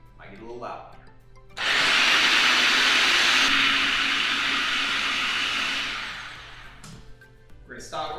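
Food processor pureeing a pea and dill hummus with oil, a loud steady whirring grind that starts abruptly, holds for several seconds and then fades, with talk before and after.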